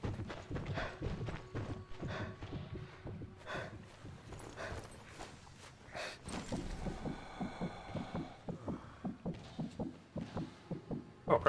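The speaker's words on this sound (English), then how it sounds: "Might adjust my heartbeat volume." Heartbeat sound effect in the video game Sniper Elite 4, a steady run of soft low thumps pulsing regularly throughout, loud and close, with faint background game noise and no speech.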